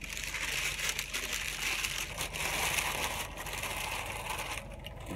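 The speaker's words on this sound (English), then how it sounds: "as you can see, this is parchment paper." Parchment paper crinkles and crushes inside an Instant Pot in a truck cab while a whole chicken is prepared, a continuous dry rustling close to the microphone for several seconds.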